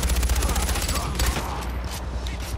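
Rapid bursts of gunfire in the video game Far Cry 4, a quick rhythmic string of shots loud at first then trailing off, with a voice faintly under it.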